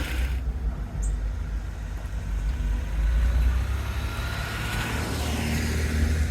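A Ginetta G26 sports car on the road, its engine droning as a steady low rumble with road and wind noise at a constant loudness throughout.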